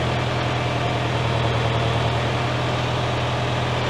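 A steady, close engine drone with strong low rumble comes from a David Brown tractor labouring under Selectamatic hydraulic load, running unbroken with no talk.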